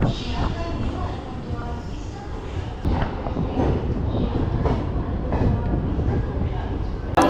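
The Teesta Torsa Express rumbles and rattles steadily as it rolls into platform 1 at New Jalpaiguri station, with clanking carriages and a busy mix of voices and movement around it.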